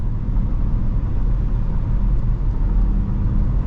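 A 2021 Dodge Durango R/T Blacktop with its Hemi V8 cruising on the road, giving a steady, deep low rumble with road and tire noise heard from inside the cabin, smooth and even, with no talking.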